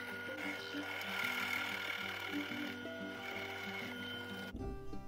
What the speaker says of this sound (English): So I drilled an 1/8-inch hole in all of the pieces to have a little bit more accuracy, and now I'm gonna move up to